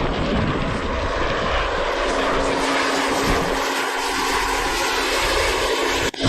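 A propeller airplane's engine roars loudly and continuously as the plane flies in toward a landing on ice, a broad, steady drone filling the whole stretch and cutting off abruptly at the end.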